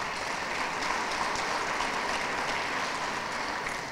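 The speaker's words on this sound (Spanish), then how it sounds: "un fuerte aplauso" Steady, dense applause from an audience at a Meliá hotel event in Punta Cana, honouring CEO Gabriel Escarrer and the head table; many hands clap continuously at an even level throughout.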